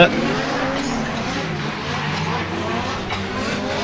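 Drift car on track during pro-am qualifying at a British Drift Championship round at Buxton, engine droning with a clutch kick as the car struggles, under continuous commentator talk.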